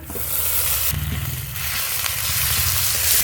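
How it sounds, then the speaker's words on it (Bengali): Ginger-garlic paste frying with onions in a pan while a Bengali boal fish kalia is being cooked, making a loud, continuous close-up sizzle that briefly shifts in texture partway through. "এবার বাকি মশলাগুলো দিয়ে দেবো আদা রসুন বাটা"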